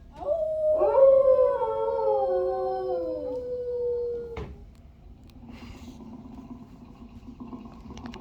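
Animatronic dog Rover howling in the Carousel of Progress show at Magic Kingdom, one long wavering howl of about four seconds, then an abrupt click and quieter background hum.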